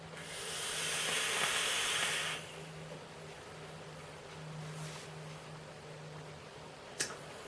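Vaping on an H-atty atomizer by Blitz Enterprises: a bright airy hiss of a long draw lasting about two seconds, close and fairly loud, then quiet with a brief click near the end.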